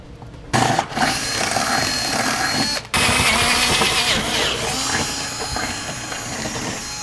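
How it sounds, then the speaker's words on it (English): A power drill with a 5/16 bit whirs steadily and close, enlarging holes in metal, with a short pause near the start, grinding continuously through the cut with no talking. "now we'll enlarge our holes from the outside edge with a 5/16 drill bit."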